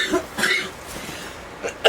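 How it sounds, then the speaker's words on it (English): One person gives a deep, chesty cough, a couple of rough bursts heard up close, followed by a short sharper sound at the end. "It's that deep down cough."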